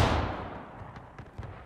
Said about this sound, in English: Stop. Artillery.